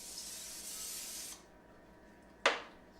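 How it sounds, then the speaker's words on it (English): Olive oil sprays onto a cooking pan in a steady hiss lasting over a second, followed by silence and then a sharp, brief clatter. "spray down the pan first with some olive oil"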